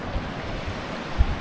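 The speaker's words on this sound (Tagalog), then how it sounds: "Ayan, nandito na kami sa may dagat." Sea waves washing onto the shore at Cabaritan, a steady low rumbling wash with light wind buffeting and a soft thump of surf, heard alone without talk.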